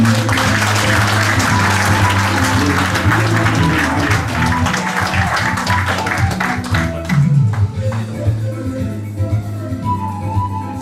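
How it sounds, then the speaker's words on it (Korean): A hall audience claps for an award presentation at a Songpa district chamber of commerce year-end gathering in Seoul. The applause is loud, steady and sustained, thinning near the end, with some voices underneath. "큰 박수로 부탁드립니다."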